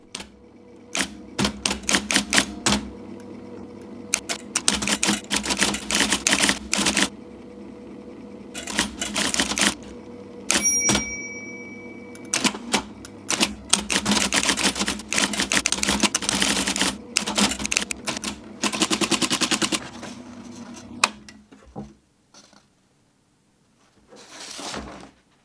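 A typewriter clatters through a letter in rapid bursts of key strikes with pauses between lines and a bright ding as the carriage nears the end, then a brief stop and a few more strokes before fading out.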